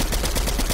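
Rapid automatic gunfire in the video game Fortnite, a fast, evenly spaced burst of shots about ten per second, loud and dense with no pauses and no talking.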